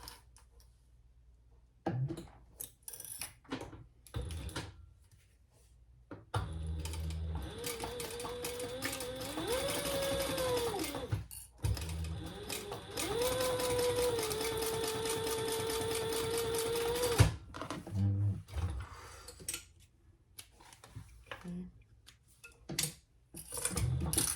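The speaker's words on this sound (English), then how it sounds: "sew this together at the seam allowance in the pattern" Sewing machine stitching a crossbody bag seam: quiet handling, then a sustained steady motor hum with rapid needle clatter for about ten seconds, a brief pause, then lighter clicks and fabric shuffling.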